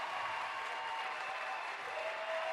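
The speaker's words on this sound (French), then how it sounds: "Acclamons très fort. Let's clap." Steady, continuous clapping from a church congregation, an even wash of many hands with no break and a faint voice underneath.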